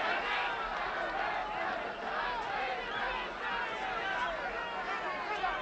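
Boxing arena crowd roaring encouragement during a John H. Stracey versus Jose Napoles bout, a dense sustained wash of cheering and shouts, distant and continuous without a clear commentator voice.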